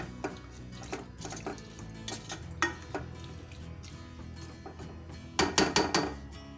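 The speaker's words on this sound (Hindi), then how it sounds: "पानी डाल के अच्छी तरह से मिक्स कर देंगे।" Flat beans and potatoes are stirred with water in a pan, giving soft scraping and light metallic clinks of a spoon against the pan, then a quick burst of louder knocks near the end, with no talk.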